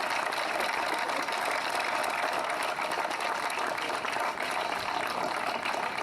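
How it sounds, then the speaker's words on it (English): A steady, dense wash of clapping fills the air as a Memorial Day ceremony audience in Hinckley Township applauds the veterans, sustained and even throughout with no pauses. "give them a round of applause"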